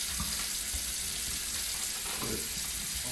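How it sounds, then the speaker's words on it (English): Tap water pours steadily into a container for soapy water in a painting workshop, a close, continuous hiss and splash with faint clunks underneath and no talking. "Put some water in here."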